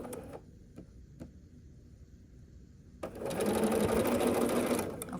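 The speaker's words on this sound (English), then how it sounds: "we are going to just match these up and just sew across here" A sewing machine stitches across a quilt block seam on a churn dash block, starting after a few seconds of quiet with a few faint clicks and then running as a steady, close, continuous whir to the end.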